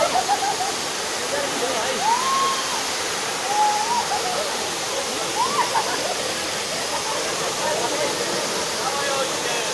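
Steady broadband rush of flowing water, like a stream or small waterfall, fills the scene continuously at close range, with faint voices and a few brief tonal calls in the background.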